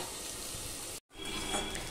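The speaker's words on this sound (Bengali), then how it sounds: "তবে ভাজা হয়ে যাবে পেঁয়াজটা আলুর সাথে" Steady frying sizzle of onion and potato in a covered pan, cut by a brief silence before the hiss resumes, ending with a short clatter.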